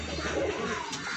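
A flock of Madarasi pigeons, around eighteen birds, coos softly in a brief, low murmur with a faint background hiss.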